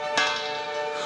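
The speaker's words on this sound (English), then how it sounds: "Now I've rung the front doorbell." Front doorbell rings once, a single bright chime struck early that then decays and lingers as a fading ring in an otherwise quiet space.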